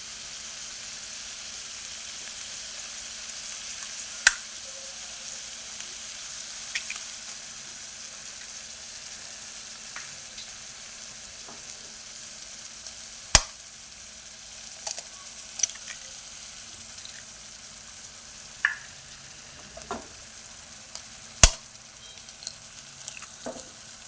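Beaten eggs poured over masala fry in a pan, holding a steady low sizzle throughout, broken by scattered sharp pops and clicks of spattering and stirring.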